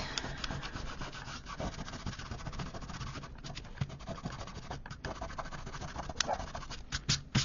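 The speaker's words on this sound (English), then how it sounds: "I just use my finger to rub it off" A fingertip rubs pencil marks off watercolor paper in a soft, continuous scratchy friction, close and fairly quiet, with small irregular strokes and no voices.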